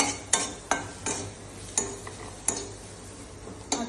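Paneer bhurji masala with Kashmiri red chilli powder being mixed in a pan, a spatula knocking the pan in steady close taps about every half second over a faint sizzle.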